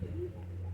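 Pigeons held at home, including sick wild pigeon chicks, give a short, soft low coo close by over a steady low hum, with no talking.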